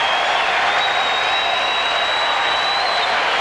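A crowd at the 1995 BPAA U.S. Open bowling championship round cheers and applauds. The roar is steady and dense and holds for the whole stretch, with no talk over it.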